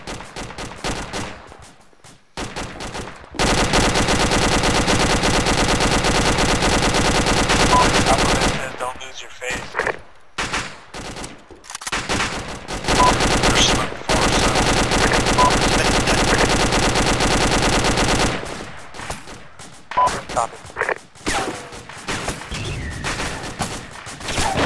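Sustained machine gun fire in a video game, long loud continuous bursts filling most of the clip with short pauses between strings of shots.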